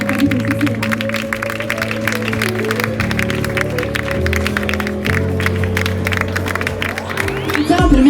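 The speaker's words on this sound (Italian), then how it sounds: "Le accogliamo con un bel applauso" An audience claps steadily to welcome Miss beauty pageant contestants onto the stage at a Miss Reginetta d'Italia Veneto selection evening in Eraclea, sustained applause with some cheering over music playing underneath.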